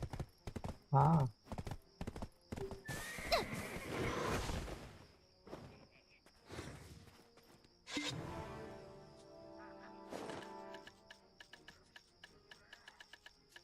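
A horse in the video game Black Desert Online whinnies loudly near the start, followed by clip-clopping hooves, swooshing attack sounds and scattered combat noise, with a brief spoken word from a player.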